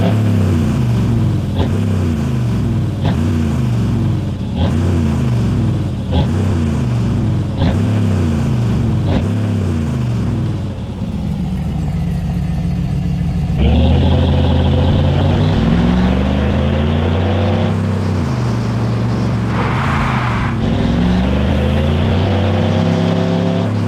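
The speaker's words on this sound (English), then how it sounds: "And I'm gonna let you guys hear the sound now." The Chevrolet Silverado in the mobile driving game Car Parking Multiplayer produces a loud, steady engine drone, with repeated rhythmic revving swells and a shift to a rougher, higher-pitched run partway through, heard alone without talk.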